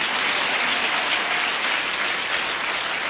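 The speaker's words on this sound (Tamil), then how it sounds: "கைத்தட்டுங்க, நல்லா கைத்தட்டுங்க," A congregation at an all-night prayer meeting claps hands in a steady, dense wash of applause, loud and continuous throughout, with no clear voices above it.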